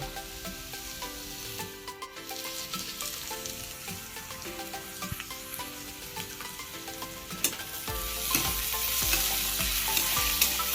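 Green peas fry in a pan for suji upma, giving a continuous sizzle with rhythmic scraping strokes of a stirring spoon that grows louder and hissier near the end.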